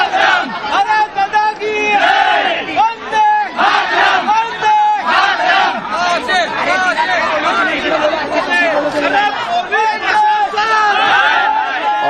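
A large angry crowd protesting at Badlapur railway station in Maharashtra where a train was stopped, loud continuous shouting and chanting from many voices close by, rising in waves with no pause throughout.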